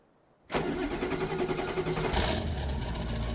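A 7.3 diesel truck in Farming Simulator 25 cold starts abruptly after silence, catching at once and settling into a loud, steady, rumbling clatter of idle close by.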